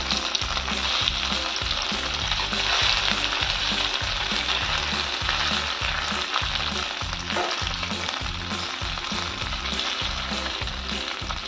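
Poha cutlets shallow-frying in a pan give a steady, loud sizzle with no pauses, broken by faint regular scrapes of a spatula turning them.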